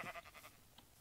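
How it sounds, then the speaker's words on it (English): A sheep in the Minecraft video game gives a faint, wavering bleat in a few quick pulses, followed by a small higher blip. No one talks over it. "Oh, there's sheep over here."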